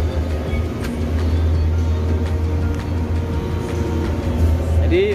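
Bus interior while driving, a steady loud low engine drone and road rumble filling the cabin, with a brief rising whine near the end and voices faintly present.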